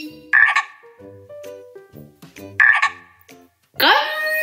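A cartoon frog croaks in a French animated children's story, with two bright croak calls and a rising vocal sweep at the end, layered over soft background music without speech.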